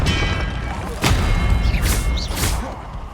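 Expelliarmus spell effect from the video game Hogwarts Legacy: a sharp crack followed by rumbling low-end and a couple of bright whooshing bursts, loud and busy over about three seconds.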